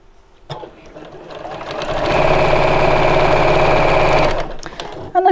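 A sewing machine stitches two pieces of fabric right sides together with a quarter-inch seam, starting with a few clicks, then running in a loud, steady, close whir for about two seconds before stopping.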